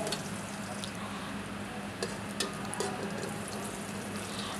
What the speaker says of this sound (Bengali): এখন কিন্তু কাঁচামরিচ, রসুন, পেঁয়াজ এগুলো ভেজে নিচ্ছি একটু লাল লাল করে